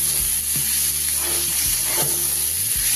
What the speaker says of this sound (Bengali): এবার দিয়ে দেবো আমি কিছুটা ভেজানো ছোলা